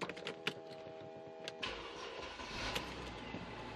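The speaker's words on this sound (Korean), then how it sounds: "이제 바로 제가 시동 한번 걸어보도록 할게요" A used second-generation Mercedes-Benz ML350 4matic gasoline SUV starts up from inside the cabin: a brief crank and catch, then a steady low idle rumble settles in after some interior clicks and chimes.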